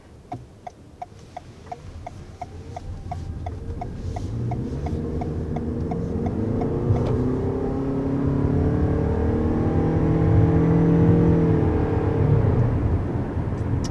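A 2021 Toyota Venza hybrid accelerating hard to 60 mph, its engine drone rising steadily in pitch and loudness from inside the cabin, with a quick indicator-like ticking in the first half.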